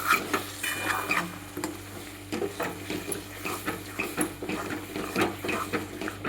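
Rajasthani garlic and red chili chutney being stirred and fried in a pan: a steady run of close scraping strokes against the pan over a low, constant sizzle, with no talking.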